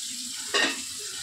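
A brief sizzle from a wok set on the stove for cooking hilsa curry and taro greens, one short burst of frying noise over a soft steady hiss.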